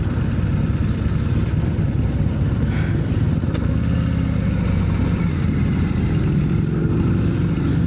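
A Harley-Davidson CVO Street Glide with a 135 engine, a Grand Touring model set to sport mode, running steadily with a deep, continuous engine rumble close by and no talk.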